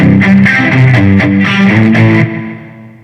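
Guitar played through a Boss GT-1 multi-effects pedal with reverb, sounding a loud sustained run of notes and chords that rings on and fades into a reverb tail.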